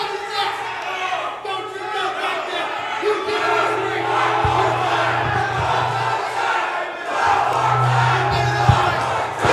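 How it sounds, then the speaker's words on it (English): A large crowd roars and chants together in unison, loud and sustained, with rhythmic vocal pulses rising and falling throughout. "Hear this crowd"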